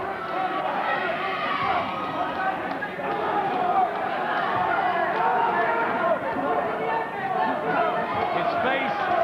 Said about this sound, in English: Listen to the crowd enjoying this.